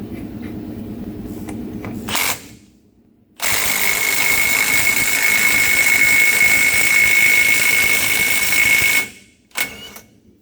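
An old nut is run onto the pinion of a Dodge Ram 3500 rear differential, a loud, close, sustained whirring impact or ratcheting tool burst after a short metallic rattle, then brief clicks.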